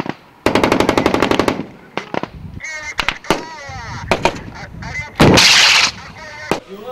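Gunfire at a shooting range during a military-style training exercise: a rapid machine-gun burst, then scattered single shots and short bursts at close range, mixed with shouting voices.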